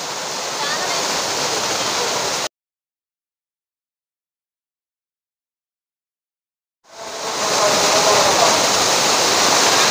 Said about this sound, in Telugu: ఎలా ఉన్నాయి వాటర్ ఫాల్స్?